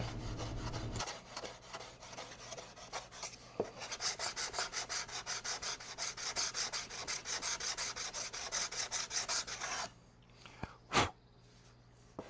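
Steady rhythmic hand sanding of a wooden RC airplane wingtip with 320-grit sandpaper, close up, in quick back-and-forth strokes that stop abruptly near the end, followed by a faint bump.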